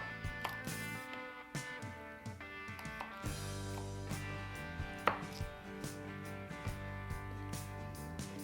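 Carrot chopped into smaller pieces on a cutting board, heard as a series of close, crisp knife thuds at an uneven rhythm over a faint background hum.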